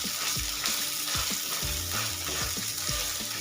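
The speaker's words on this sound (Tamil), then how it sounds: "உப்பு சேர்த்து நல்லா தேவையான அளவுக்கு நல்லா வதக்கி எடுத்துக்கோங்க" Vegetables sautéing in oil with salt in a pan for chutney give a steady, close, bright sizzle, with regular dull knocks and scrapes from a spoon stirring throughout.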